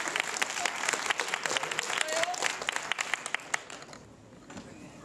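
Theatre audience clapping for a performer, a dense patter of many hands that thins and fades out near the end, with a voice speaking over the applause.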